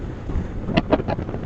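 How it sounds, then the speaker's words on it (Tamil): Strong wind blows across a hill road on the climb toward Kondarangi, buffeting the microphone in a steady low roar with a few sharper gusts, and no one speaking. "காத்து பயங்கரமா அடிக்குதுங்க."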